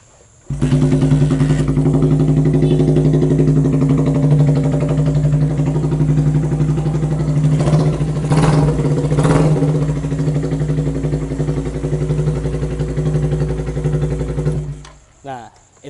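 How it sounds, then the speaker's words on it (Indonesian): A custom-built Suzuki Thunder 125 motorcycle engine running loud and close, a steady harmonic idle with a couple of brief throttle blips midway before it cuts off at the end. "dengerin suaranya motor Thunder 125 karya dari Bukan Bengkel"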